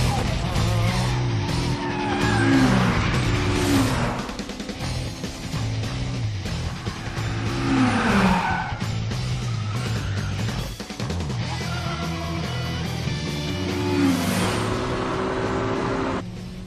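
A racing car engine roars and revs hard in a street-racing film scene, with loud rising and falling engine pitch over several seconds and tire squeal in the mix.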